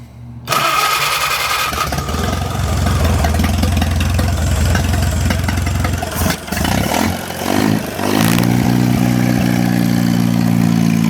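A 1937 Willys flathead engine that sat for years cranks and fires, then runs at a loud, steady idle close by, with a brief dip and uneven stretch before settling again.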